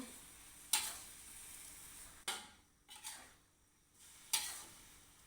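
Chinese kale stir-fry being stirred in a pan: a few separate scraping, clattering stirs with soft sizzle between them, close and alone with no talk.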